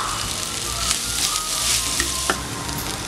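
Potato masala sizzles and fries steadily in a pan, with a few sharp clinks and scrapes of a spoon as it is mixed, loud and close with no voices.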